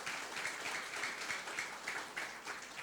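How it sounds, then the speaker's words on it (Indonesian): Audience applause at an Indonesian corporate anniversary event hall, marking a Best CFO Awards 2023 mention; steady, fairly quiet clapping from a crowd sustained throughout with no break. "Tepuk tangan dulu dong."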